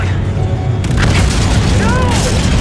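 Heavy booming impact and explosion from a warship ramming collision in a space battle in Call of Duty: Infinite Warfare, a loud sustained rumble that swells after the first second, with radio chatter and alarms over it.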